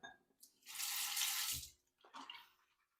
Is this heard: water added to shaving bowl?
yes